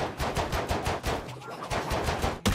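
Pistol gunfire in the zombie survival game Project Zomboid cracks out as a rapid, steady string of close, loud shots, evenly spaced and nearly continuous, ending with a sharper report.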